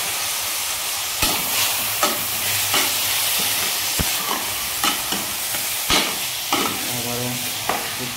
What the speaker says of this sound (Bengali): এই পর্যায়ে আমি রাইসগুলোকে অ্যাড করে দেবো